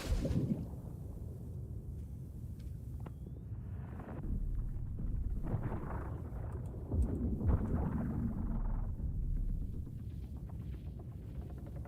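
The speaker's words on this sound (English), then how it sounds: "Oh, here comes a storm through." A storm rolling through in The Last Caretaker video game, with deep sustained rumbling, gusting wind and occasional heavier thunder-like swells at a steady, ominous level.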